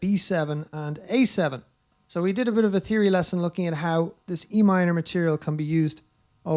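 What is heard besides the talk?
No everyday noise stands out behind the speech.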